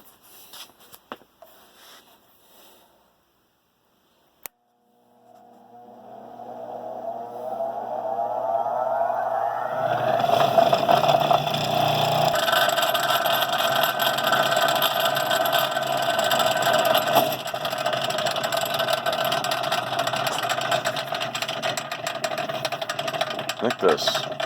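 Rikon bench grinder starting up after wheel balancing, with the motor spinning up over several seconds from near silence into a loud steady whine and hum with slight vibration, close, preceded by a few faint clicks.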